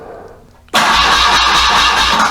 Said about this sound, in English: when I try to start the motor, or I should say when I spin the engine